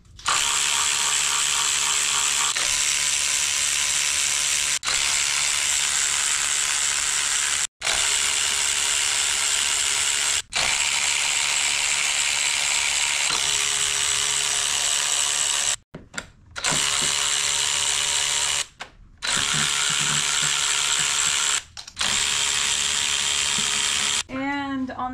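Ratchet wrench with an extension loosening 10 mm valve cover bolts on a 2011 Chevrolet Malibu engine, a steady close clicking that runs nearly continuously with a few brief pauses.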